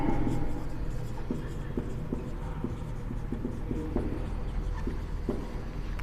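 A teacher writes a maths equation on a classroom board with a run of light, irregular tapping strokes. The strokes sit under a steady low room hum, close and fairly soft, with speech faintly present.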